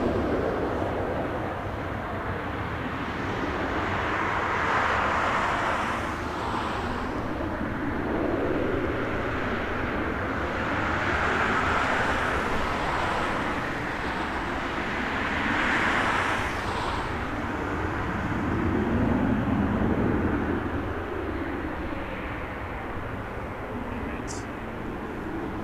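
A Porter Embraer 195 airliner at Toronto Pearson Airport rumbles steadily in the distance, a broad continuous engine roar with gentle swells, with voices talking over it.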